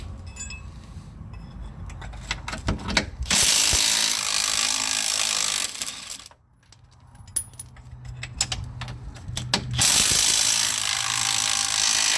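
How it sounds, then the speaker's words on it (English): A Kobalt 3/8-inch impact wrench removes bolts from a Dodge Grand Caravan power rack and pinion. Two loud, sustained rattling bursts stand out, separated by a brief quiet gap, with metallic clinks between them. "I highly suggest get you one of these Cobalt 3/8 impacts"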